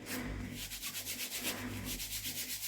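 Excess flour being rubbed and brushed off callaloo flatbread dough by hand, a steady rhythmic dry swishing and sanding sound repeating about twice per second, close and even.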